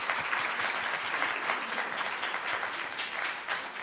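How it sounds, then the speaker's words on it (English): Dense, steady audience applause at a town hall fills the whole stretch, many hands clapping at once at an even, sustained loudness. "If we could give her all a round of applause."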